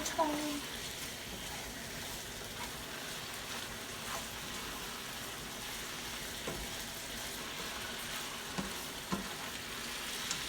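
Rasta pasta sauce seasoned with Maggi sizzling in a pan while being stirred, a soft continuous crackle with occasional faint scrapes, fairly quiet and steady throughout.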